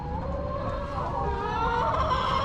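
Roosters and chickens on a farm, clucking and crowing in a busy, continuous mix at moderate distance, with no talking over them.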